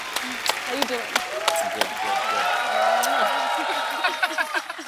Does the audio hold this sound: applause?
yes